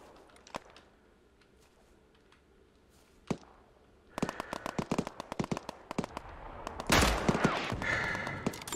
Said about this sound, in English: somebody hit that with Artie